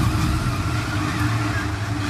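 A steady, loud engine roar with low rumbling grind, continuous and close, as a race car slides through grass at Daytona.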